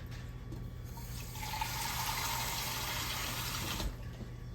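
Water pours into a pot of ground beef and vegetable soup, a steady rushing splash that grows fuller midway and then stops, with no voices.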